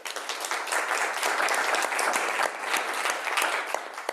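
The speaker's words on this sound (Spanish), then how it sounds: "Les pido un aplauso, por favor." Audience clapping for a guest at a business panel on innovation in Chile, a continuous, fairly loud wash of many hands with no pauses.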